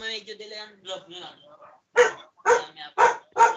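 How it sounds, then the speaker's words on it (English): A dog barks four times in quick succession, fairly close and sharp, after a stretch of a person's voice at the start. "I think there's a dog."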